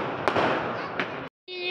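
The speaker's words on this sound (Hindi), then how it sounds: "देख रहे हो ये जो पटाखे गिरे, गोवर्धन के पूजा हो रही है" Firecrackers go off during Govardhan Puja celebrations, a dense crackling barrage with a couple of sharper bangs, close and loud, cutting off briefly before more noise resumes.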